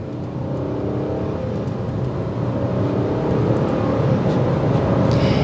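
The engine of a 2022 Nissan Murano Platinum with a CVT transmission holds a steady, loud rev under acceleration as a droning hum with no gear changes.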